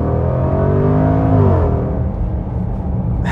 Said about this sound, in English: awesome sound from that exhaust